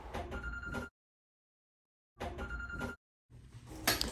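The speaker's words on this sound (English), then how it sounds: "the sound of a phone ringing" A telephone rings in two long bursts separated by a pause, its bell tone bright and steady, then a third burst begins at the end; no one speaks.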